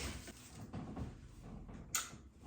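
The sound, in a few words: door being opened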